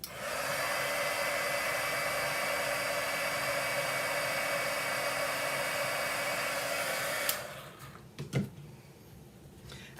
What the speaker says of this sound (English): we'll heat emboss this little smile on here